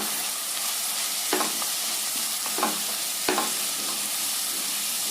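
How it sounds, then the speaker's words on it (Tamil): Onions, carrot, beans and ginger sautéing in oil for vegetable masala bonda give a steady, close sizzle, broken by three soft scraping stirs at even intervals, with no voices. "இதுல வெங்காயத்தை போட்டு நல்லா வதக்கி விடுங்க. இது கூட பாருங்க கேரட்டு, பீன்ஸு, இஞ்சி இதையெல்லாம் நல்லா போட்டு வதக்கி விடலாங்க"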